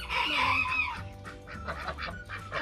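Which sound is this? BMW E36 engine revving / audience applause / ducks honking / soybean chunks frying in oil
ducks honking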